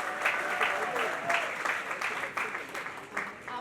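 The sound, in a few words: audience applause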